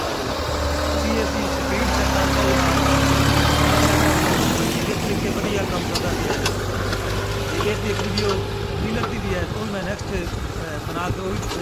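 An Orient Bull Power 60 HP tractor engine runs steadily at a low idle-like drone, close and continuous, with a faint pitch shift early on and some background noise from the field.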